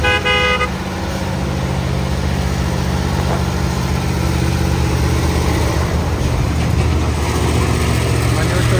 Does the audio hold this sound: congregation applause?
no